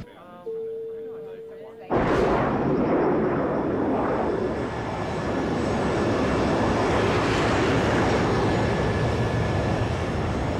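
An airliner cruising at altitude heard from inside the cabin, with a steady broadband engine roar that swells in abruptly after a short tone and holds loud and constant to the end.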